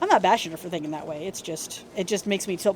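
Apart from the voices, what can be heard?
No everyday noise stands out behind the speech.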